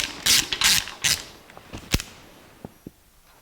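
A ratchet working a bolt on the alternator of a 1984 Jeep CJ7, a few quick bursts of clicking followed by sharp metallic taps and knocks, close and clear.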